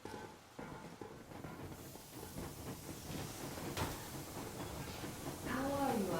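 In the video game Metro Exodus, a steam locomotive sets off with hissing steam and a building, rhythmic chuffing and rail clatter that grows louder. A voice speaks briefly near the end.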